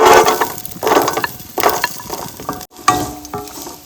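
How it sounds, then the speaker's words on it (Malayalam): Coconut pieces frying and stirred in a pan for a Kerala jackfruit curry, with bursts of hissing sizzle and scraping stirs in a steady rhythm, close and fairly loud, broken by a short gap. "തേങ്ങാക്കൊത്ത് ഒന്ന് ചുമന്ന് വരുന്ന വരെ നമുക്കൊന്ന് മുട്ടിച്ചെടുക്കാം"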